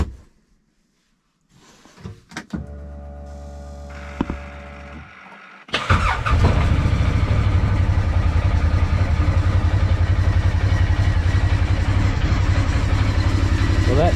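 A UTV engine fitted with a new battery is cranked and starts, settling into a loud, steady idle that runs to the end after a few quiet clicks and a brief whirring crank.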